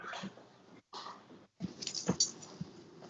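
A small dog whimpers softly in short, broken bursts, with a few quiet pauses in between and faint breathing close by.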